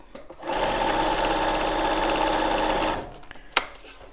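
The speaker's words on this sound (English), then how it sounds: "I'm going to go ahead and stitch on the line" A sewing machine stitches paper-pieced fabric along a marked line, a steady close whir of rapid needle strokes running for about two and a half seconds before stopping, followed by a brief sharp click.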